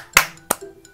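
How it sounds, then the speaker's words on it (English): Two sharp hand claps ring out close and crisp, a third of a second apart, followed by a fainter softer tap. "Three claps and a half"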